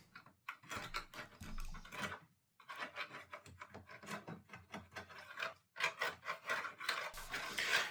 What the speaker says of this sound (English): I grabbed some steel wool to help clean up the top